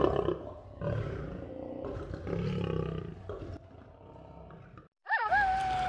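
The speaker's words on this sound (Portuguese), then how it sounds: "Som da leoa." A lioness roars in loud, rough, growling bouts for about five seconds, then breaks off before a short, higher tonal sound follows.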